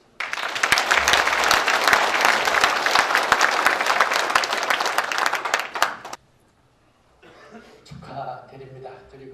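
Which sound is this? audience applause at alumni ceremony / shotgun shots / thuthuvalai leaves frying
audience applause at alumni ceremony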